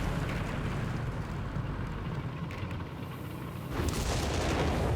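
Artillery strike in Company of Heroes 3: a dense, continuous rumble of booms and low engine-like drone throughout, with a louder burst of impact noise near the end.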